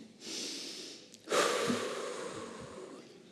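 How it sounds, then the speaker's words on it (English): A crowd of graduates at a college commencement draws one collective deep breath, then lets out a loud, long, rushing group exhale that slowly fades. "let's take a deep breath real quick."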